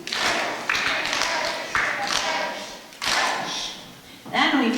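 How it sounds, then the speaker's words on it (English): Children clap out the syllables of a word in a classroom music session, a few sharp group claps spaced about a second apart, close and fairly loud, with speech between them. "Can you clap 4 birch leaves for me?"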